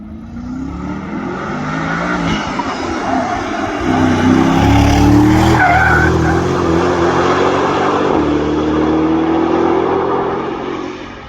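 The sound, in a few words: Aston Martin DBX driving fast on the Nürburgring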